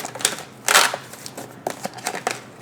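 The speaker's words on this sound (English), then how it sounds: "Let's shuffle some more." Tarot cards being shuffled by hand, with bursts of crisp riffling and papery flicks; one louder, longer riffle stands out among several shorter, softer card slaps, close up and with no talking.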